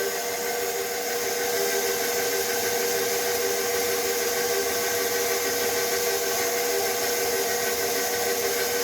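A pasta roller attachment running as it rolls and thins dough, giving a steady, even motor whir with a constant pitch that holds on its own from start to finish.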